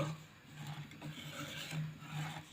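A spoon stirs semolina cooking in milk in a pot, making faint, rhythmic scraping and rasping strokes against the pot, with no talking.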